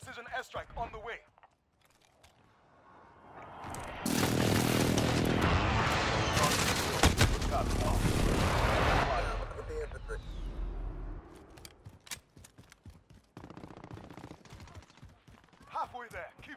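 A precision airstrike in a Call of Duty match: a long, loud roaring barrage of blasts and rumbling impacts swells in, sustained for several seconds, then fades, with scattered gunshots and radio-style voices before and after.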